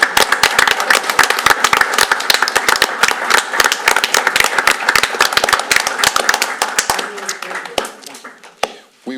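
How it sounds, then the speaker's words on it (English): A city council meeting audience applauds a Navy World War II and Korean War veteran, dense steady clapping from many hands that fades out near the end. "I think that's a round of applause with that"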